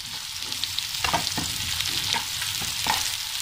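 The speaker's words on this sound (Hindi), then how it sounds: "2 मिनट बाद अदरक और लहसुन डाल देंगे, तो 1 इंच अदरक, 10-12 कलियां लहसुन की," Onion, ginger and garlic fry and get stirred in a pan for a sem aloo sabzi, a steady close sizzle broken by several sharp spatula scrapes and clinks against the pan, with no talking.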